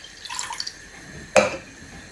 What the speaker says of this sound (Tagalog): lagay lang tayo ng 1 cup na tubig